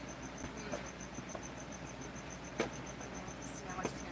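Crickets kept as chameleon feeder insects chirping indoors, a steady rapid high trill repeating evenly throughout, faint beneath a low room hum with a few soft clicks.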